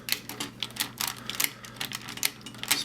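Plastic parts of a Transformers Leader Optimus Prime toy clicking and ratcheting as the legs are folded, a steady run of sharp close-up clicks in uneven rhythm, with no talking.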